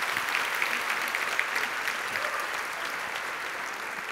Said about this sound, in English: if you can keep that applause going